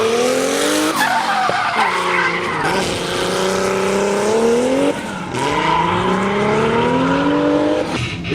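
A car drifting through a curve, tires skidding and squealing in long sustained wails that rise and fall with each slide, the engine revving loudly beneath, close and continuous with brief breaks between slides.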